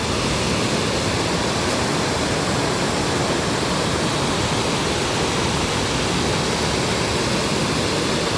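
A rain-swollen village stream flows full in the monsoon, a steady, loud, unbroken rush of water close by that carries on throughout with no voices.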